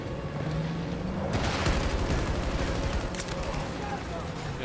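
Heavy weapons fire in the shooter game Battlefield 2042, where an RPG rocket launcher is fired amid a dense wall of gunfire and booming blasts, loud and sustained, with sharper bursts near the middle and end.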